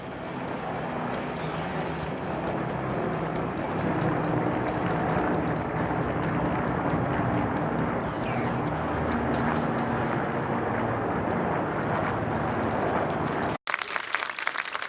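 Military helicopters, including a Cobra attack helicopter, fly past during an Armed Forces Day air display in South Korea. The loud, steady rotor and engine roar stays continuous and close for about thirteen seconds, then cuts off abruptly.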